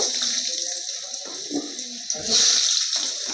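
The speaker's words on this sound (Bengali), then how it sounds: "তো এই তেলের মধ্যে আমি কেটে রাখা আলুগুলো আগে দিয়ে দেব।" Cut potatoes go into hot oil left from frying fish, giving a steady close sizzling hiss that swells louder near the end as they hit the oil.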